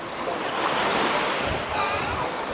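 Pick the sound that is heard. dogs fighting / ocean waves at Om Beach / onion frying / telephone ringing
ocean waves at Om Beach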